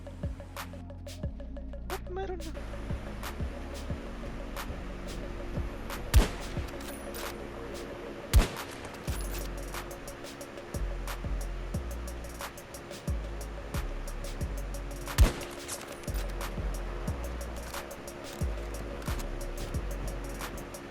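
Gunfire in the video game Battlefield 2042: scattered sharp shots and short bursts ring out at irregular moments over a constant rumbling battlefield backdrop.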